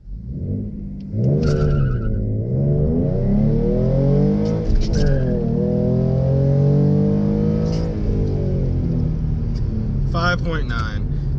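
A tuned 2016 Mustang V6 launches in a 0-60 run, its engine note climbing steadily through the revs with a brief tire chirp at the start and a gear change midway, loud and close.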